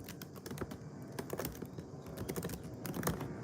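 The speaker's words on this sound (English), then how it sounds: "I bought a Bluetooth mechanical keyboard" Typing on a Bluetooth mechanical keyboard, with rapid, irregular key clicks in short bursts over a low background hum, heard close but fairly quiet.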